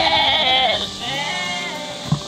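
A sheep on a farm lets out a close, wavering bleat, followed by a second shorter call and a small knock near the end.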